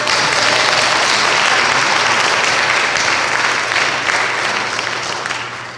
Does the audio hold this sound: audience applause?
yes